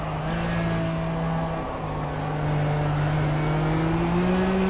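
The Lykan HyperSport supercar's engine drones steadily in the racing video game Project CARS, a loud, close, sustained tone that rises slightly in pitch toward the end as it accelerates.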